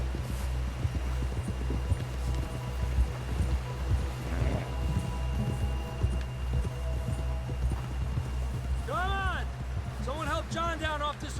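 A horse in Red Dead Redemption II gallops in a fast, steady clip-clop of hoofbeats, close and continuous, with voices talking over it and a couple of brief whinnying, squealing calls near the end.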